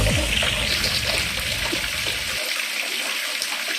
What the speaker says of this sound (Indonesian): pastikan lihat dulu ya guys kecepatannya seperti ini